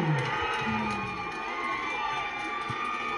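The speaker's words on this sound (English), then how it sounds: "we're going to see the crowd absolutely go crazy." An MMA crowd roars and cheers after a first-round stoppage, a dense, sustained wall of shouting with scattered whoops throughout.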